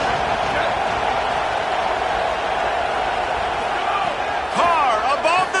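A football stadium crowd keeps up a loud, steady roar that swells slightly toward the end, with scattered whistles and shouts rising over it and a commentator talking through it.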